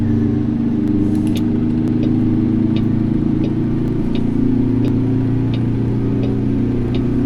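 Blueprint Mods Needlenose diesel truck in a trucking simulator hauling with a Spicer 4x4 gearbox, its steady low engine drone held through gear changes with only slight shifts in pitch and short clicks above, no voices.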